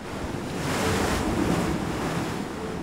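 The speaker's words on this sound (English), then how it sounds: "battered by the waves" Ocean waves wash onto a Channel Islands shore in a broad, rushing roar that swells and eases, with heavy wind buffeting the microphone throughout.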